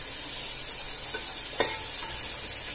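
Green chillies fry in a little oil for a simple vegetable pulao as a spoon stirs them, giving a soft, steady sizzle with a few sharp scrapes of the spoon against the pan.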